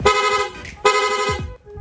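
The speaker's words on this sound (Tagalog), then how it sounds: "Nag-install din tayo ng rapid horn." Two loud, brassy blasts from a rapid horn installed on a Honda Click V2 scooter sound up close, each held for most of a second, separated by a brief gap, with a short faint tail after.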